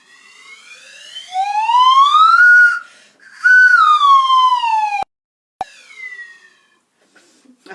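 A voice imitates a slide whistle, gliding up then down in a long whistly sweep, then repeating it, followed by short breathy fragments.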